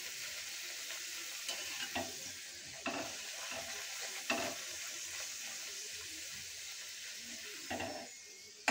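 Luchi frying one at a time in hot oil in a home kitchen, a continuous close sizzle with occasional sharper crackles and bursts as the dough puffs, no talking.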